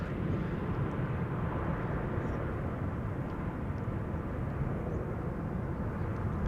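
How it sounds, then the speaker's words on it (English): A heavy airliner landing at Amsterdam Schiphol Airport on a sunny morning, a steady, broad jet roar heard from a distance at moderate loudness, alone with no talk. "First of 3 consecutive heavies landing here."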